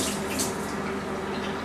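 Running tap water pours steadily as plant food is rinsed under it, a loud continuous splashing rush with no talk.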